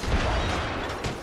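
A grenade blast in Apex Legends on King's Canyon, a single short booming burst heavy in the low end that fades quickly.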